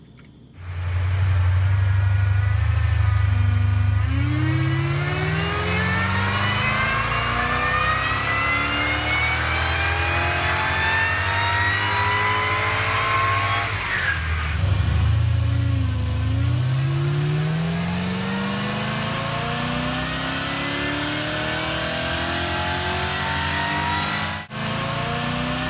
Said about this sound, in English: I've put the car on the dyno now, and we want to do a power run